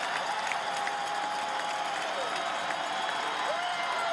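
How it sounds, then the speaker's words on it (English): A college football stadium crowd roars steadily during an Idaho Vandals at Northern Illinois game, a broad, constant wash of noise with a faint whistle-like tone gliding through it and no clear voices on top. "This crowd is up and noisy."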